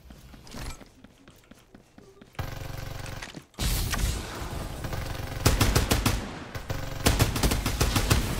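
Automatic gunfire rattles through a Farlight 84 match, with rapid bursts that grow louder and denser, mixed with mechanical clatter and game effects and no talking.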